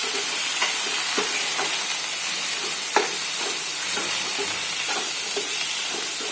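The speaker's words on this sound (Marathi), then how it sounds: "व्यवस्थित असं परतून घेणार आहोत थोडा वेळ" Vegetables with salt are sautéed in a pan for a Marathi festive thali, giving a steady close sizzle broken by intermittent scraping stirs of a spoon, with no speech over it.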